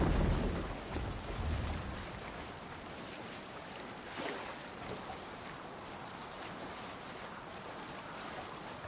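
Ocean waves and rushing wind surround a Viking longship sailing at sea in Assassin's Creed Valhalla, a steady broad wash of water and air with one brief swell and no talking.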